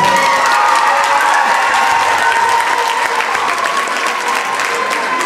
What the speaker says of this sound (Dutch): Een applausje voor alle kinderen van en alle begeleiders en alle dirigenten van Privaatje IJzer.